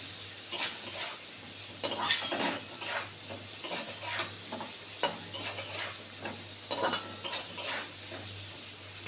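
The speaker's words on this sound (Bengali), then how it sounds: "এবারে কাঁকরোলটা ভালো করে ভেজে নেব সুন্দর করে।" Teasel gourd pieces frying with turmeric in a pan, a constant sizzle broken by frequent rhythmic stirring scrapes of a spatula against the metal, close and alone.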